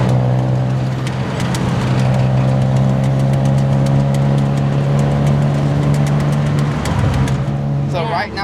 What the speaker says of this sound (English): We're taking the tuk-tuk to Khao San Road